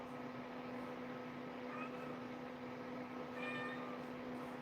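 Cats meowing and crying outdoors at night, two short mewing calls rising out of a steady hum of background noise, faint and somewhat distant.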